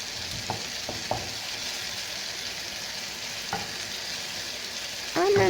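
A spoon stirs biryani masala mixed with about half a cup of yogurt in a pan, a steady low sizzle and scraping close by with faint clinks, ending in a louder rustle.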